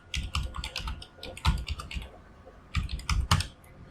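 Typing on a computer keyboard, clusters of quick crisp key clicks in two bursts separated by a short pause, close and alone with no talking.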